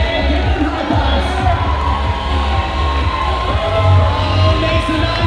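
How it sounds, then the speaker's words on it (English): A wedding crowd at a reception cheering, whooping and shouting with applause, loud and close, with a steady dense roar and some voices calling out over the noise. "A big round of applause for Mona in the corner."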